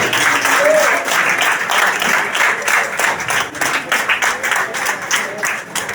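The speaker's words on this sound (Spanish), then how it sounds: "este aplauso es para ti" A church congregation applauds with dense, sustained clapping, loud and lively throughout, with voices mixed in under the applause.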